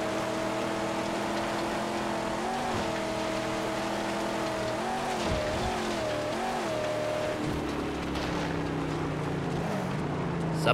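Vehicle engine in the Mad Max video game rumbles loudly with layered low harmonic tones that waver and dip as the revs shift, then settles into a rougher steady roar, with no talk over it.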